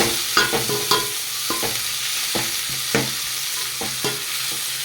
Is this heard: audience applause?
no